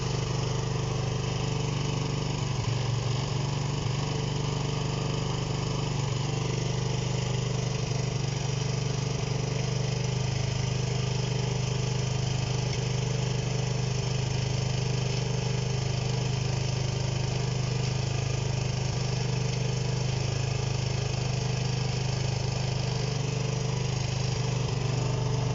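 A Honda CB125 RS motorcycle engine idles steadily without the choke, a constant low mechanical drone close by, uneven and slightly rough throughout with no revving and no talk.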